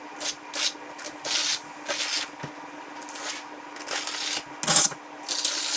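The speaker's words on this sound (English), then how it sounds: "So we're just going to use our trowel and we're going to put our ridges down." A trowel spreads tile mortar in ridges across a plexiglass sheet, giving repeated rhythmic scraping strokes with short pauses between them, close and fairly loud with no talking.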